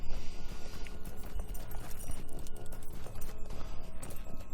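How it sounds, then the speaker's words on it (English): Hooves of a Yuletide steed clip-clop rapidly in the video game Frostbluff Quest, a dense, loud, rhythmic patter of hoofbeats mixed with clinking, mechanical game sounds, with no voices. "One of the special horses you can get at the Yuletide Fest."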